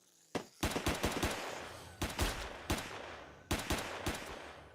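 Gunfire in a zombie tower-defense video game: three clusters of rapid, loud shots, each a quick burst of several cracks followed by a short decaying tail, with no talk.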